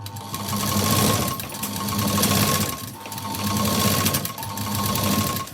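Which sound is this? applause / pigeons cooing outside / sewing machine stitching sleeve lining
sewing machine stitching sleeve lining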